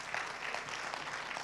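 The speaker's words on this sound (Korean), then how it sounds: "우리 앞으로 나올 때 박수로 한번 환영하도록 하겠습니다." Church audience applauding to welcome a children's choir, a faint, even patter of clapping heard from a distance.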